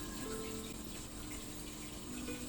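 Steady, continuous water flowing and trickling, a soft broadband wash with no voices, a small stream running over stones, branches and leaf-dammed pools.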